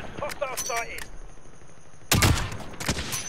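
Gunfire in Call of Duty Modern Warfare Warzone comes as a loud, close burst of rapid shots in the second half, after a stretch of game sound effects.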